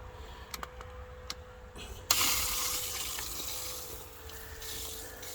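Water from a newly installed garden drip irrigation system begins flowing after a few faint clicks, a steady soft hiss and trickle that starts suddenly and holds at low level.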